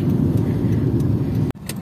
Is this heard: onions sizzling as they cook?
no